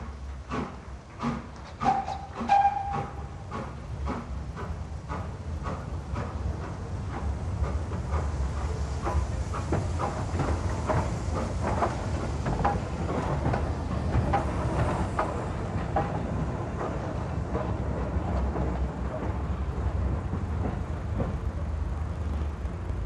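British Railways express steam locomotive on the Severn Valley Railway, heard running as a steady, fairly distant rumble and hiss with sharp rhythmic beats near the start, later settling into an even roll.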